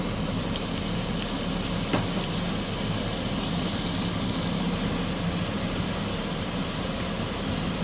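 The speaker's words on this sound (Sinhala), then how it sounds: "ටිකක් බැදෙන්න දීලා ලුණු රම්පේ අමු මිරිස් එකතු කරගන්නවා." Steady, dense sizzle of salt, pandan leaf and green chillies frying in oil for a chicken curry, continuous and fairly loud throughout, with one faint clink near the middle and no talking.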